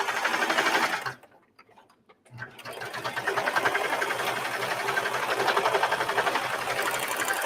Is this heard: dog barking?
no